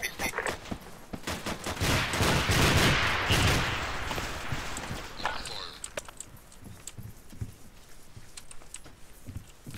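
Dense bursts of gunfire in an Arma multiplayer team battle around a compound, rapid cracks and rattles sustained loudly for several seconds, then tapering to scattered distant shots and footsteps, with voices talking underneath.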